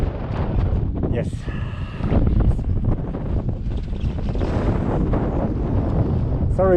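Strong wind buffets the microphone in open country in Cappadocia, Turkey, a loud, constant low roar with gusts throughout, while someone speaks over it.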